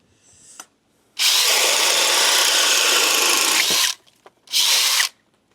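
A Metabo HPT DV36DC drill in Speed 2 drill mode bores with a 2 9/16 self-feeder switchblade bit: one loud, steady whirring run of about three seconds, then a shorter second burst, with brief quiet gaps between.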